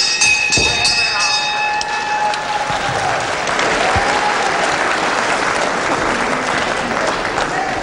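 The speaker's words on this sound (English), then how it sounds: "They really applaud here for nice wrestling moves." Dense, sustained audience applause rings out at a wrestling bout, loud and continuous throughout, with crowd murmur blended in.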